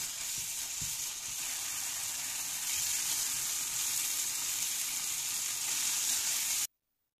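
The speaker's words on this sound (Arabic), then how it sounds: "هضيف البصل والثوم وكل البهارات وهقلبهم مع بعض. وهسيب اللحمة لحد لما تستوي والسوائل اللي فيها تنشف." Ground meat frying in a pan with onion, garlic and spices, giving a steady loud sizzle throughout with occasional stirring scrapes, ending abruptly.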